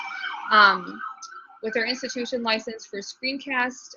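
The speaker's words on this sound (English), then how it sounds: "Oh, sorry about the sirens." Emergency vehicle sirens wailing outside a window, loud and rising and falling in repeated sweeps while a person talks over them.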